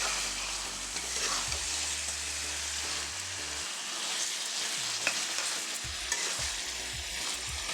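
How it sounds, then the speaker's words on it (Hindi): Chicken frying in masala on high heat in a home kitchen, a steady close sizzle with scraping stirring strokes and occasional spatula knocks throughout, loud and unbroken with no talk. "इस मसाले में डाल के इसको 2 मिनट अच्छी तरह से भूनेंगे हाई आंच को।"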